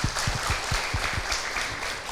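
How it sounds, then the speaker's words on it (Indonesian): An audience at an Islamic family-advice talk claps together for Ibu Sumiati, a steady dense patter of hands with a few heavier thumps, filling the room for a couple of seconds without any voices. "Tepuk tangan untuk Ibu Sumiati."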